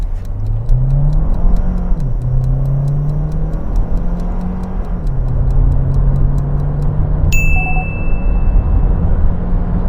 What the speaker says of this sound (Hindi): अब हम इस गाड़ी का 0 to 100 टेस्ट करते हैं। उसके लिए हम इसे स्पोर्ट्स मोड में डाल देते हैं